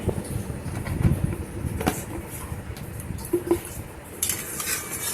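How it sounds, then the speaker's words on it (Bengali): Khichuri with ghee is stirred in a pot with a metal spoon, giving soft clinks and scrapes against the vessel over a low background rumble, with no talk. "ঘি দিয়ে আবার আমি ভালো করে নেড়ে চেড়ে ঘিটা এর সাথে মিশিয়ে দেবো।"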